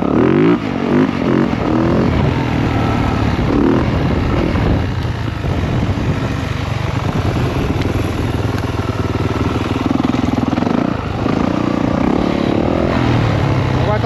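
A motorcycle doing a U-turn on a Miami Beach street, its engine loud and close throughout, idling and revving up and down with wind rumble, no talk.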